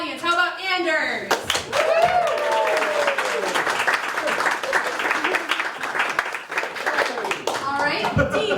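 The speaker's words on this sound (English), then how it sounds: "Audience will now use the classic applause as voting system to determine who wins this game" A live audience applauds and cheers to vote for a contestant during a comedy game show about hats. A burst of clapping swells with excited shouts and high children's voices, then carries on loud and steady until it fades.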